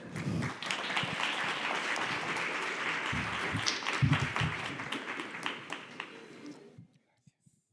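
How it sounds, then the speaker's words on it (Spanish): Audience applause for a panel speaker at a corporate inclusion event in Peru, a sustained crowd clapping for several seconds with some louder claps near the middle, then cutting off abruptly into near silence with a few faint taps. "Un aplauso, por favor, para él"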